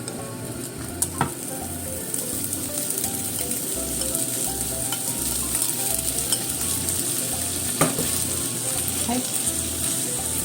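Mochi okonomiyaki fries in an oiled pan with a continuous close sizzle, a few sharp utensil clicks and a low rhythmic hum underneath, while a voice briefly speaks.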